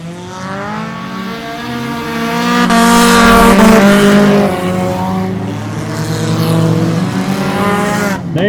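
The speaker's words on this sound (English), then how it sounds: "Green flag racing out here at Putnam International Trailway." Race cars roar past at Putnam International Trailway, their engines loud and close with rising and falling pitch as a pack sweeps by, a continuous sustained drone.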